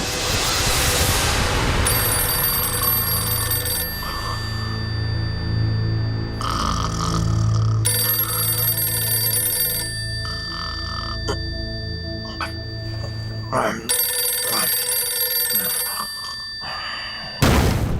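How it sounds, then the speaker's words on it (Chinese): A telephone rings in repeated bursts, a bright electronic trill cycling on and off over a low, steady hum, with no one answering. "电话没人接"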